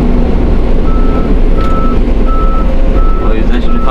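Reversing beeps from a dump truck sound during loading by an XCMG 160E excavator at an excavation site, evenly spaced tones over a loud diesel rumble, with a voice talking over them.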